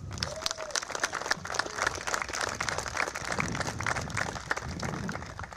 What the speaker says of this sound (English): Sometimes you don't get enough applause, but I'm here to lead the charge